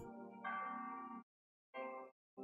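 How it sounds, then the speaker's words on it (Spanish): Church bell tones ring in The Last Door 2 in distinct strokes, a long sustained toll followed by shorter ones separated by silence, clear and resonant. "Campanas, parece que el párroco llama a misa."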